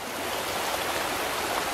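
River water flows steadily in a rainy woodland, a continuous broadband rushing hiss with no distinct splashes and no talking.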